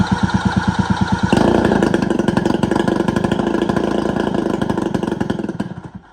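A carbureted engine turns over with a rapid, even chugging of the starter, then catches and runs roughly at a loud, close idle for several seconds before dying away.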